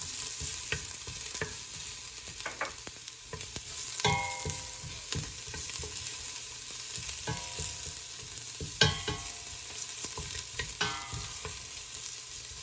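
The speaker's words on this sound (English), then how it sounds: "go ahead and add our garlic. Just saute this. Just light brown." Garlic sautéing in a pan, a continuous bright sizzle broken by sharp scraping and tapping from a utensil stirring at irregular intervals, close and clear with no voices.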